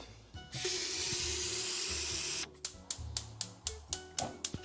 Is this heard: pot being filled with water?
yes